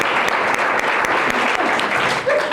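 A round of applause from a crowd at a corporate celebration event honoring a mobile money manager, dense steady clapping, loud and close, with a brief voice near the end.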